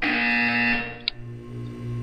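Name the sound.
buzzer in the video game Portal 2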